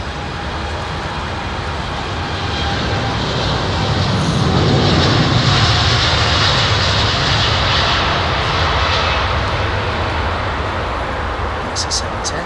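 Jet airliner on approach and landing at London Heathrow runway 27R, a loud steady engine roar that swells and fades with a broad rushing wash, under people talking.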